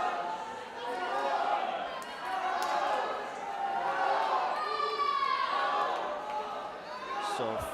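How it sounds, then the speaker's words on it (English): Swimmers' teammates cheer and clap along the pool deck at a high school swimming championship meet. A steady, echoing crowd roar and shouts rise and fall under an announcer's commentary. "See the swimmers' teammates applauding them on the side of the pool."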